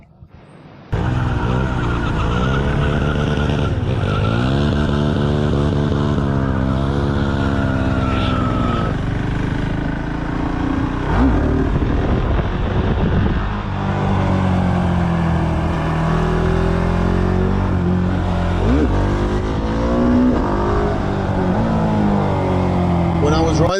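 Husqvarna Svartpilen 701 single-cylinder motorcycle engine revving while riding, rising and falling through gears with quick shifts, loud and close throughout after a brief quiet start.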